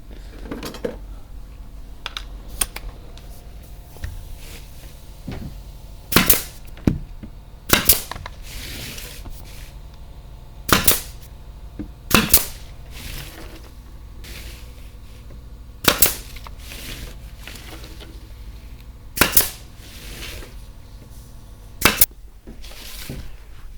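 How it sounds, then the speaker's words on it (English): Nail gun firing into a wooden canvas stretcher frame, about a dozen sharp, loud snapping shots spaced a second or more apart over low background noise. "I go to my nail gun and make sure it stays that way"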